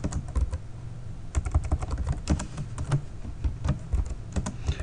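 Someone types code on a computer keyboard, giving irregular bursts of close, crisp key clicks and taps with short pauses between them and no talking.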